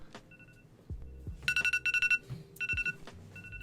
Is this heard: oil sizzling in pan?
no